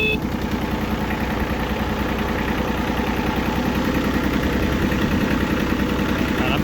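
International 244 compact tractor diesel engine running just after starting, a steady close rumbling idle with a regular low throb that stays even throughout.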